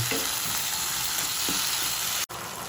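Okra and onions for bhindi do pyaza sauté in a pan with a steady, close sizzle, broken by a couple of faint stirring scrapes and one brief dropout near the end.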